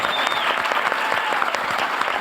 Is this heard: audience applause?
yes